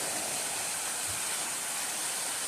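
Continuous broadband rush of a roadside waterfall in the Golden Corner of South Carolina, an even, steady wash of falling water heard from moderate distance without any voices.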